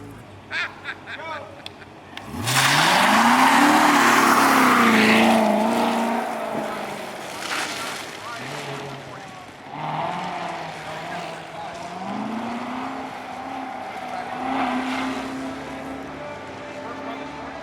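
A car at an autocross event at a Texas cars and coffee meet roars past close by, its engine rising loudly then fading, followed by more passes and revs in the distance while spectators talk and cheer.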